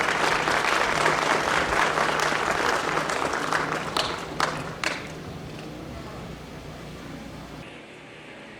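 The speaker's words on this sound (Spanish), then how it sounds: "Les damos un aplauso, por favor." Audience applause for a panel of experts at an academic event on artificial intelligence and adaptive learning, a steady dense clapping that gradually thins and fades toward the end.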